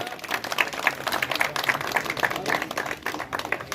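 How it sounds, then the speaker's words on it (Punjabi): An audience at a shield prize-giving ceremony held in memory of a music teacher claps steadily in a dense burst of applause, loud and close, with a faint voice underneath. "ਤਾੜੀਆਂ ਮਾਰ ਦਿਓ ਵੀਰ ਜੀ"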